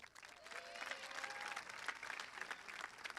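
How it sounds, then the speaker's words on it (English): Faint, distant applause rises from the audience at a 2024 high school senior graduation ceremony, a steady wash of clapping with a voice briefly heard in the background. "So let's give them a big round of applause, folks."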